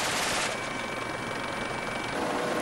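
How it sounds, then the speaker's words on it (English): French military helicopter hovering over the Gulf of Aden during an anti-piracy pursuit, its loud steady rotor and engine roar filling the scene with a dense rattle that may carry a machine gun salvo blended into the din. "Even a machine gun salvo from the helicopter doesn't make much of an impression."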